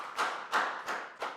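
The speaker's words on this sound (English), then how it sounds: "Round of applause." Four short broadband bursts of clapping, about a third of a second apart, from a small group of primary-school pupils praising classmates in a Year 3 maths lesson; fairly faint and hollow, with no talk over it.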